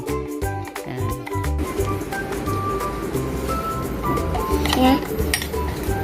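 A spoon clinks rapidly against a glass while stirring homemade lemonade soda, a quick burst of bright taps and then scattered softer clinks, with people talking throughout.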